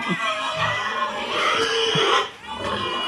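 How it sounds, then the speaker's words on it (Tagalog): Shrill, loud squealing from pigs fills the clip, with overlapping cries and grunts, close by and continuous for a few seconds. "umagak na nga po ang baboy"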